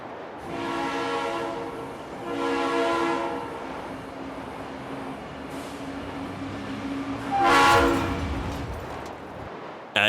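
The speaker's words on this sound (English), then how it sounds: "A cogwheel switch on Mount Pilatus, Switzerland aligns the rack rail perfectly so the train never loses grip" Cog railway train on Mount Pilatus, Switzerland, sounding two long horn blasts in turn, followed by a steady rumble and a sharp, loud burst near the end.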